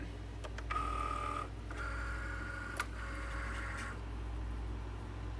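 A Cricut cutting machine registers and cuts printable iron-on, producing faint intermittent motorized whines and soft ticks in short bursts over a low steady hum.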